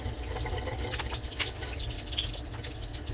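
Water used to soak sea cucumbers is poured out, a soft trickling and splashing with a few faint drips, steady and close.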